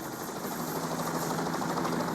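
A helicopter in the heist game Payday 2 beats out a dense, steady rotor chop at close range, loud and unbroken, with no talking.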